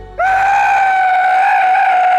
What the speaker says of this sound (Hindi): नींद में हिमांशु को एक चीख सुनाई दी।